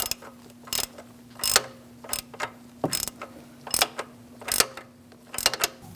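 A wrench snugs an oil pressure switch on a 2002-2006 Toyota Camry, giving a rapid series of close ratcheting clicks in short bursts with a faint steady hum beneath.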